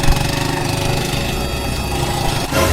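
A tricycle's motorcycle-style engine runs loud and close with a rough, throbbing idle and a steady mechanical rattle throughout.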